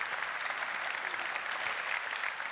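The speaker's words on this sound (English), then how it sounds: "let's give him a round of applause" An audience claps steadily after a live software demo at an open infrastructure conference, a dense, even wash of applause from a large crowd with no voices over it.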